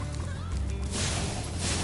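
Chickens squawk in the Spyro Reignited Trilogy video game as they are struck, giving short fowl cries over dense game sound effects and music.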